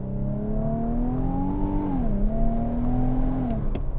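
A 2025 Infiniti QX80 Autograph's turbo engine accelerating, its steady harmonic drone climbing in pitch, dipping briefly at a shift around the midpoint, then rising again, heard loud and close from inside the cabin.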